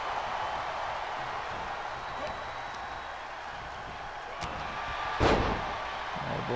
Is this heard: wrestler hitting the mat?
yes